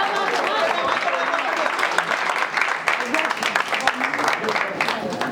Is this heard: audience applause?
yes